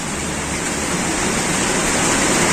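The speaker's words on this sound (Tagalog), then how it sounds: "Diba, kalakas ng ulan." Heavy rain falling outside in Hong Kong, a dense, loud, continuous hiss of water with no breaks and no voices over it.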